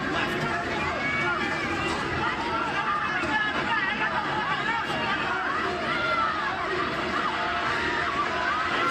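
A large boxing arena crowd roars and murmurs steadily during a Pacquiao–Thurman welterweight title fight, a loud, continuous wash of cheering and babble with a commentator speaking over it.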